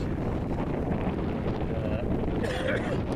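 Steady, rushing wind of 15 to 20 knots, gusting to 22, roars over the microphone throughout while sailing, a constant loud buffeting with faint water and boat sounds beneath.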